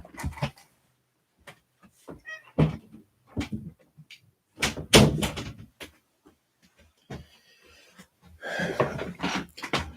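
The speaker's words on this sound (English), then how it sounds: "I'm going to open the door and let the cat out." An indoor door being handled to let a cat out, with scattered knocks, creaks and thumps at irregular intervals, some louder handling noise near the end, and a few scattered close sounds between quiet gaps.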